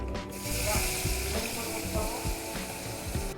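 Onions tipped into a big pot of spiced mutton nihari with cloves and garam masala, setting off a steady, fairly loud broadband sizzle and frying crackle with light stirring clatter throughout, no voices.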